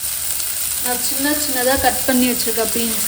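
Tomatoes sauté in a pan for beans poriyal, a steady sizzle and frying hiss running under a voice talking nearby.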